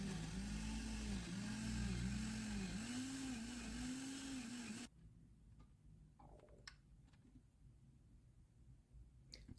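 A loud blender whirs steadily with a wavering motor pitch for about five seconds, blending fufu ingredients with a cup of water, then cuts off, leaving quiet clinks and rustles.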